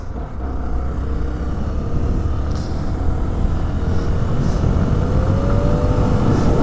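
Engine of a 2021 Honda Twister 250 motorcycle while riding, a continuous close rumble that slowly grows louder and climbs in pitch toward the end.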